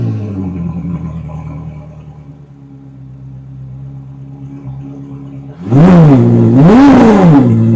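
A hypercar engine idles with a low steady rumble, then roars into two loud, sharp revs that rise and fall in quick succession.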